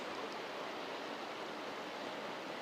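A waterfall near Ribblehead Viaduct, running low on water, gives a steady, even rushing roar heard from a distance at moderate loudness with no breaks.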